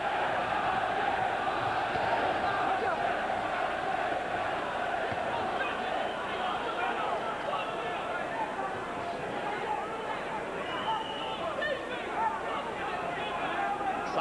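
A large boxing crowd at a heavyweight fight in Atlantic City roars in a dense, continuous wash of cheering and chatter, steady and loud throughout with no breaks.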